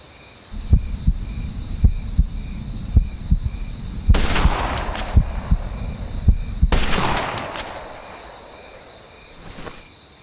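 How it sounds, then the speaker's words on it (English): A hunting rifle in Hunting Simulator 2 fires at a deer, giving sharp cracks over a quiet outdoor bed of crickets and insects. Two much larger booming shots stand out, each followed by a long decaying echo. "I'm always putting two shots into animals"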